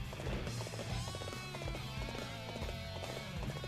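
Horse hooves clip-clop at a steady gallop in the Dynasty Warriors 8 video game, close and rhythmic, mixed with battle clamor and game sound.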